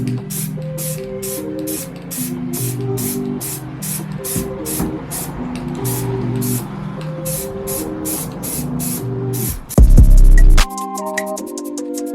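A spray can lays a light coat of paint on the back of a Subaru BRZ taillight in a series of short, rhythmic hissing bursts, with loud background music playing throughout.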